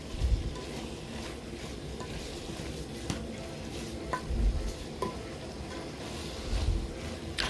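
Omena fish fry in a pan and are stirred as the liquid cooks off, a low, steady sizzle with soft scraping strokes and a few faint clinks.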